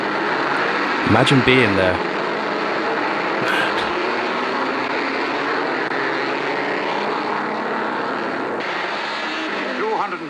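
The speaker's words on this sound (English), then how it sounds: "Jeez, the sound of those engines." Loud, dense roar of many racing car engines, including Alfa Romeo 158s, revving together at the start of the first Formula One race, a sustained mechanical blare with a brief spoken voice over it.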